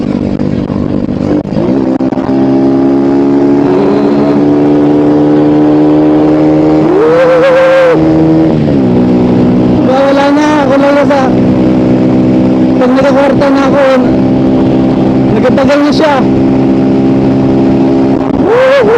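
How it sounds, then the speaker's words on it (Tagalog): A big motorcycle accelerates hard on a dirt road, its loud, steady engine drone sweeping upward in pitch several times as the rider opens the throttle and shifts, with wind noise throughout. "Try natin kung gaano kabilis yung motor ko dito."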